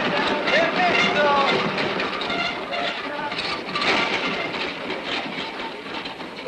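A train rumbles and clatters at a busy station in a 1953 film scene, with steady wheel noise and hiss throughout while crowd voices and calls mix in.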